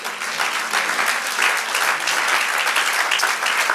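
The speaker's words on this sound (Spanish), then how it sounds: "Dale el aplauso." Church congregation applauding, a loud sustained burst of many hands clapping with a few faint voices beneath.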